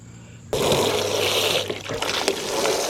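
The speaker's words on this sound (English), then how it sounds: "So we're actually going to flush it with a water hose" A water hose flushing out a rain gutter during a gutter-protection install: a sudden, loud, steady rush of spraying and splashing water that starts abruptly and continues close by.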